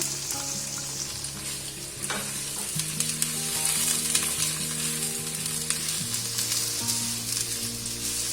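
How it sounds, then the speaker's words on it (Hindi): Finely chopped onions frying in oil with cumin seeds in a pan, a loud continuous sizzle and crackle with some stirring, alongside a steady tonal hum in the background and no talking. "अब इसमें मैं प्याज डाल दूंगी।"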